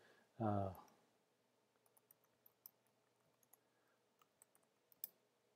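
Someone types a street address on a computer keyboard, with scattered light key clicks at an uneven pace, faint and close, after a brief burst of voice.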